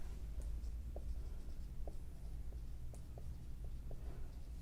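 Pen or marker strokes on paper or a board during a maths lesson, a run of short, faint scratching taps spread irregularly over a low steady background hum.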